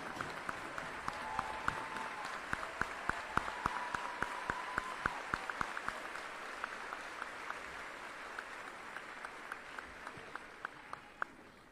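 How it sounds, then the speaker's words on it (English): Audience applause at an Army basic training graduation ceremony, a distant, fairly faint wash of clapping from a large crowd with sharper individual claps standing out, continuing steadily for about twelve seconds and tapering slightly. "Ladies and gentlemen, join me in a round of applause."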